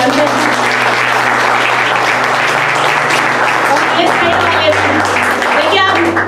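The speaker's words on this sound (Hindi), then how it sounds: "देखिए, आप प्रभु के लिए ताली बजा रहे" A church congregation clapping together in praise, loud sustained applause from many hands filling the room, steady throughout, with a low hum underneath.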